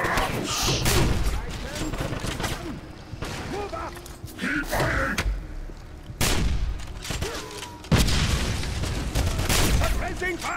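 Gunfire and grenade explosions in the video game Wolfenstein: dense bursts of shooting with sharp booming blasts around the three-, six- and eight-second marks, loud and close throughout, with brief voice sounds mixed in.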